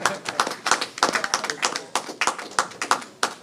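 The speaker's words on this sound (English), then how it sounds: "100 of you must clap." Crowd clapping at a Ghanaian political campaign event, a fairly dense run of sharp hand claps that stays steady and rhythmic throughout, with some voices mixed in underneath.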